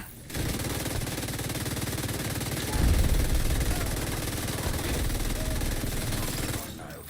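Sustained rapid automatic gunfire in The Division 2 on Xbox Series X, loud and continuous for several seconds, swelling heavier midway with dense rattling bursts, while a voice talks faintly underneath.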